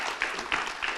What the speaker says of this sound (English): a huge round of applause for this fine gentleman here